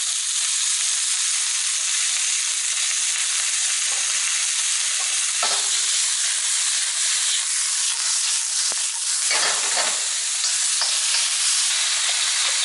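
Coarse-chopped onions and sweet pepper fry on high heat in a pan for fried rice, giving a loud, steady sizzle throughout with a few brief stirring scrapes and bursts, and no talking.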